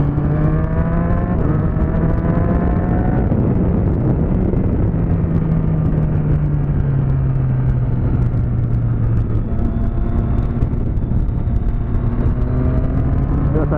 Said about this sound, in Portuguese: Essa moto tá maravilha